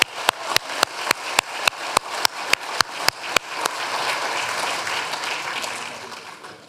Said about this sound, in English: Please give me a round of applause for